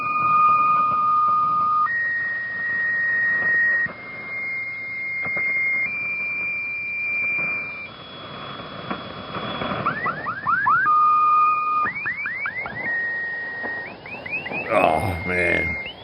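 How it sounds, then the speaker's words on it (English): HAARP high-frequency ionospheric research radio transmission: a sequence of steady electronic tones stepping between pitches, then rapid rising chirps and sweeps, loud and continuous, with no voices. "It is the HAARP, High Frequency Active Auroral Research Program."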